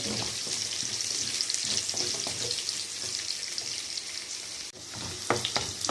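Whole spices, cumin and garlic fry in hot oil for a paneer masala, giving a steady, close, dense sizzle throughout with a few soft stirring clinks near the end.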